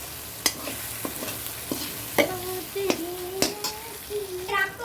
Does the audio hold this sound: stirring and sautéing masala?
yes